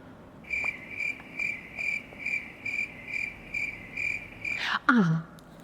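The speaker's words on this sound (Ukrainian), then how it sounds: "ну тут будуть цвіркуни." Crickets chirp in a steady, evenly spaced pulse, with a brief higher bird-like call sweeping down near the end.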